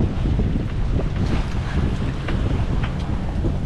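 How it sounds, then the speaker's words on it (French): A sailboat motoring under engine almost straight into the wind near Saint Lucia, with heavy wind buffeting and a constant low rumble of engine and water, loud and unbroken. "Donc là on est au moteur parce que on est pratiquement face au vent."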